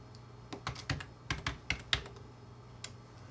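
Keys clatter on a computer keyboard in short irregular bursts as text is typed, close and fairly quiet, trailing off into a lone final keystroke.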